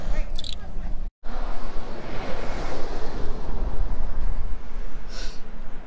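A steady, roaring rush of water echoes from far below at the bottom of Hoover Dam, loud and continuous with wind buffeting the microphone.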